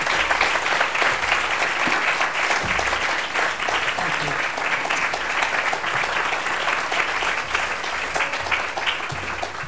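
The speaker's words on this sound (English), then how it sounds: "have another round of applause for your amazing story" Audience applause at a storytelling event, dense sustained clapping from a crowd that continues loudly for about ten seconds.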